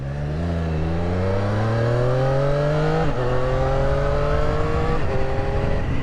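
A 2022 Triumph Street Triple RS with a 121-horsepower engine accelerates hard, its steady loud engine note rising in pitch through each gear, with two quick, seamless quick-shifter upshifts cutting the rise before it climbs again.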